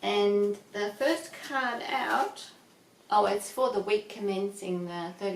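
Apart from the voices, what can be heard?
No everyday noises stand out.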